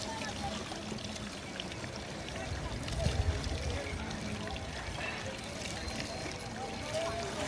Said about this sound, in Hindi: ऐसा लग रहा है ग्लेशियर से निकल रहा पानी